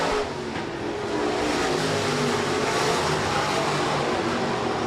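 USRA B-Modified race cars running a heat race at Rapid Speedway, a steady, dense engine roar that holds throughout without breaks or clear passes.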